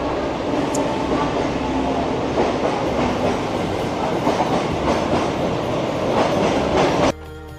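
Mumbai local train running through Chinchpokli station, a steady loud rumble with clickety-clack of wheels over rail joints, continuous for about seven seconds before cutting off.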